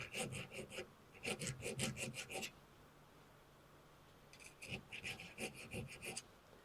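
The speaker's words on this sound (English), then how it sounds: "Yep, that's filing fairly easy, as is the cast iron." Hand file rasping across a cast iron weld on a dismantled cutter grinder, two bursts of quick rhythmic back-and-forth strokes separated by a pause, close and fairly quiet.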